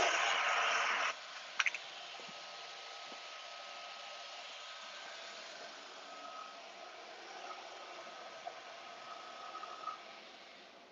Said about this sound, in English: the Summa flatbed cutter.